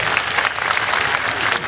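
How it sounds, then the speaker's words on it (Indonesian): A large crowd at an outdoor Islamic religious gathering in Solo, Indonesia, applauding steadily and loudly, a dense wash of clapping from many hands that lasts the whole moment. "Tepuk tangan untuk anak-anak kita kami."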